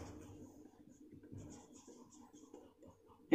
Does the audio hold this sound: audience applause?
no